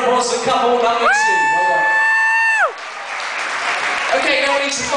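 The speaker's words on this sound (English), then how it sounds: "that's a round of applause for couple number two" An audience gives a round of applause for a couple of contestants at a holiday park entertainment show, dense clapping mixed with shouts and a loud whoop or whistle, steady throughout.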